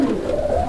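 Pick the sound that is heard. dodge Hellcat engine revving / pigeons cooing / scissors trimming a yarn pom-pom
pigeons cooing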